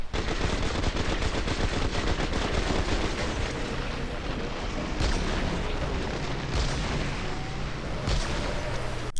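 Guns fire rapidly and steadily in the video game Remnant, a dense, loud barrage of shots with booming impacts that continues without letup and never drops to quiet.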